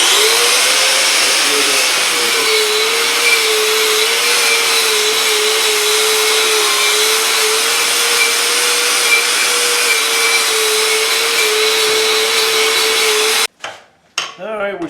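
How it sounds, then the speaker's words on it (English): A wire brush spun on an angle grinder scours the metal of an old cannon during restoration, a steady loud whine and harsh scraping that runs nonstop until it cuts off near the end. "all I have here is a brush on a grinder"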